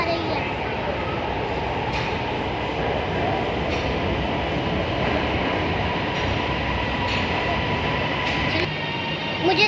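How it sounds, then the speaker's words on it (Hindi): Orange Line metro train arriving at a station in Lahore, a loud, steady rumble and rolling hum with faint wheel clatter, continuous throughout, while someone talks over it. "ये देखो, एक और ट्रेन आ रही है"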